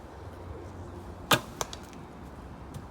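An arrow shot from an Omega Native 56-inch hybrid hunting bow with phenolic parts strikes outdoors with a sharp, loud impact, followed by a couple of fainter clicks over quiet background noise.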